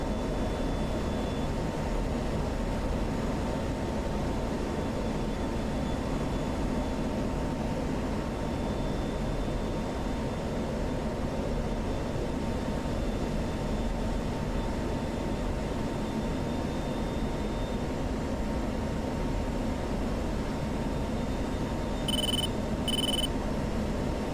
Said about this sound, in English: There's the bombers.